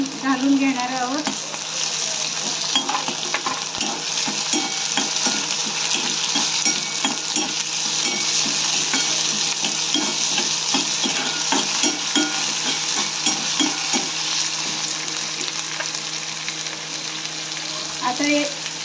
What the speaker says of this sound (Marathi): आता या ठिकाणी आपण बारीक चिरलेले टोमॅटो घालून घेणार आहोत